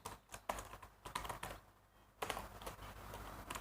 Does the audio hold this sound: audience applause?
no